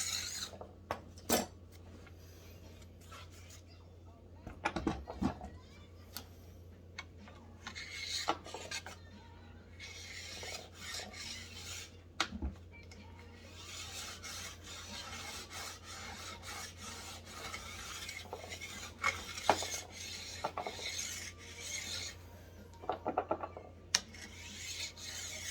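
A file rasps along a rusty ski edge in repeated scraping strokes, close and fairly quiet, with occasional sharper metallic clicks and knocks between passes and no voices.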